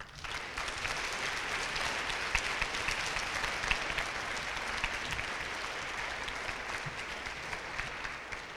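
Steady applause from a school awards audience honoring seventh-grade students, dense and even at a moderate distance throughout, with no voices rising above the clapping.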